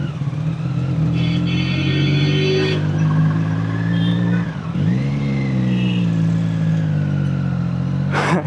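Road traffic gives a loud, steady engine drone with the pitch rising and falling as cars and motorbikes rev and pass close by. A sharp burst comes near the end.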